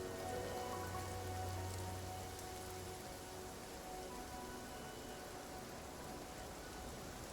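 Steady rain pours in Infinity Nikki, a dense, even hiss of drops on surfaces that runs unbroken and fairly soft throughout, with no talking.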